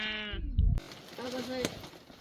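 Sheep in a mountain village, about to be taken out to graze by herders, let out two bleats: a wavering one at first, then a shorter one after a sharp knock. Voices murmur in the background.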